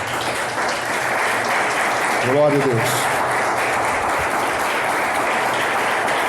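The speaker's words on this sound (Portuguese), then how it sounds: "Vamos aplaudir o Senhor bem forte." A church congregation claps loudly and steadily throughout, a broad wash of applause with a voice briefly calling out over it.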